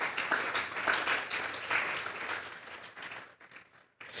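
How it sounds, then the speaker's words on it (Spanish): Church congregation applauding the Lord during a sermon, a dense wash of clapping that holds steady then thins and fades toward the end, with a brief renewed burst at the close. "Dale un fuerte aplauso pues al Señor."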